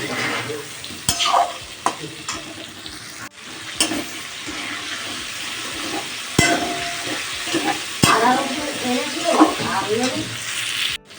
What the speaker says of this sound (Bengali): আলুগুলো একটু লাল লাল করে ভেজে নিতে হবে।